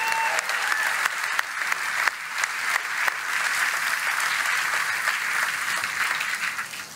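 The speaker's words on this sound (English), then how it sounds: "So let's give all these workers one more big round of applause." Sustained applause from a large crowd honoring workers at a Ford event in Kentucky, dense steady clapping with a few sharper spikes, holding at full strength throughout.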